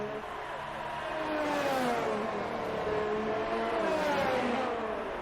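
Haas Formula 1 car in a racing video game at Abu Dhabi crossing the line, a steady high engine whine that rises and dips with throttle as it nears and passes, loud and continuous.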